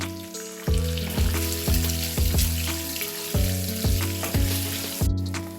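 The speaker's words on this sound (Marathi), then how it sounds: "तर आपण हे सगळं टाकून त्याला चांगलं फ्राय करून घेऊ." Eggs frying in a pan with turmeric, salt and red chili: a steady close sizzle broken by regular sharp scraping strokes of a spatula, roughly one every half second, with no talk.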